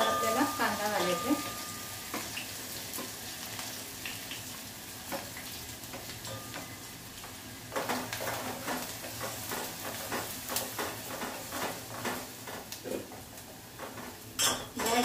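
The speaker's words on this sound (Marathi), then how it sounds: "लसूण लाल झाल्यावर त्याच्यावर आपल्याला कांदा घालायचा।" Garlic and onion frying in oil in a pan over a medium flame, a steady sizzle with scattered metallic clinks and scraping from stirring, moderately close with busier clatter in the second half.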